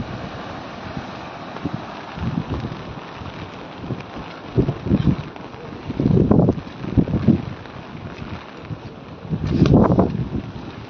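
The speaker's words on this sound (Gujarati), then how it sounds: "અને સાથે અત્યારે પવન પણ બહુ છે" Strong wind gusts buffet the microphone beside a bridge over the swollen Bhadar river, with a steady rushing roar underneath and several heavier low bursts toward the middle and end.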